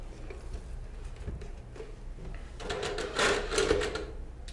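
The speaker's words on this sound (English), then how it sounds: "Power on the printer." Epson TM-U220B impact kitchen printer powering on, a short burst of mechanical whirring and clicking rising near the end over quiet room noise.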